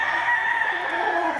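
A fighting rooster, a gamecock bred for the pit, crows one long, loud, sustained call close by, with no talk over it.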